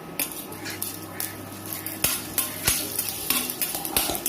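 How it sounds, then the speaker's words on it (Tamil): Mustard seeds, urad dal and broken red chillies tempering in hot oil in a pan, with a spoon scraping and clinking against the metal in sharp taps over a faint steady sizzle, close and moderately loud. "கடுகு பொரிஞ்சதும் கூட நாம் உளுத்தம்பருப்பை சேர்த்துக்கலாம் அடுத்து நம்ம மிளகாயை கிள்ளி தாளிச்சுக்கலாம்"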